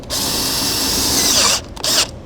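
Cordless power drill starting a pilot hole for a self-tapping screw while fitting a 12-volt outlet kit to a 2017 Ford Edge; loud steady high whine, close up, then stopping with a short final burst.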